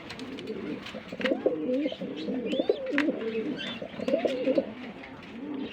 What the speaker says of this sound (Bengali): আরেক পেয়ার কবুতর আছে দেখেন এটা হচ্ছে এটাও বেলজিয়ামের ব্লাড লাইন